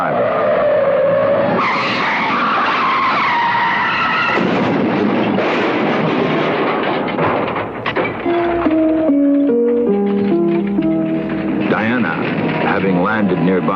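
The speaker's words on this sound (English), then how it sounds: "a car on the nearby highway went out of control, veering away from an oncoming drunken driver" Car on a highway skidding out of control while swerving away from an oncoming drunk driver: long tire squeals and engine noise, loud and close, mixed with dramatic music and a voice talking.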